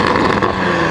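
Toyota Supra engine fitted with a VRSF downpipe exhaust, a brief loud close rev with a strong rough tone and a throaty, droning low end, heard alone without talk.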